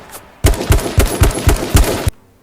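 Rapid video game gunfire rattles off in about seven loud, close shots at an even rhythm, stopping abruptly, with no talk.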